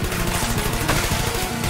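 Dense, sustained volley of automatic gunfire in the Trials of the Blood Dragon game, a continuous rattling barrage at steady loudness with no talking.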